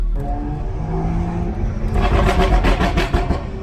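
Tuned BMW 335i with an automatic transmission accelerating hard, its exhaust roaring louder partway through with a crackling burble over a deep rumbling drone, close and steady, no talking.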